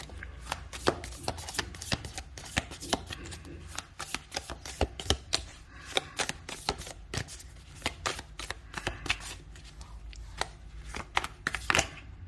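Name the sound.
shuffling a deck of cards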